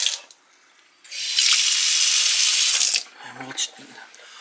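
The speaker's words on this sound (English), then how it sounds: "So you got your thick stream, and then you go back to your single stream" Water gushes from a Delta Renaldi bridge kitchen faucet into a sink as a loud steady hiss for about two seconds, then stops, with a few quieter splashes and handling noises around it.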